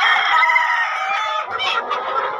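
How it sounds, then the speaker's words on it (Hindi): Sonali breed chickens on a village poultry farm clucking densely and continuously, with a rooster's crow rising near the end, close and loud, no talk. "ये सब हमारा मुर्गा सोनाली का तैयार हो चुके हैं"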